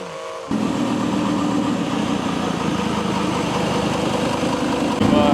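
A V10 TDI twin-turbo engine swapped into a GQ Patrol shorty runs steadily, a loud close rumble that starts abruptly after a brief quieter moment and holds an even drone throughout.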